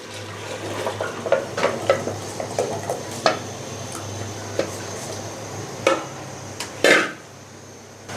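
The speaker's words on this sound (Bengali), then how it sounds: "এখন আমি এই যে হালিম মিক্সটা ভিজিয়ে রেখেছিলাম, এখন আমি এটা পুরোটাই দিয়ে দেবো এর মধ্যে।" A soaked halim mix poured into a pot of cooked meat and stirred, heard as a series of scraping spoon strokes and clinks against the pot over a faint low hum, close by, without talk.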